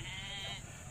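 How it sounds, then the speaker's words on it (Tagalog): A sheep gives a single short, wavering bleat at a farm, fairly faint and somewhat distant, then fades into quiet background. "Karnero."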